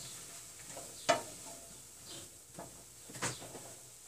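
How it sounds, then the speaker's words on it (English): White button mushrooms frying in a pan give a soft, low sizzle, broken by a sharp clack of a utensil against the pan and a few quieter scraping stirs. "now I'm going to go ahead and add my mushrooms. And these are just white button mushrooms."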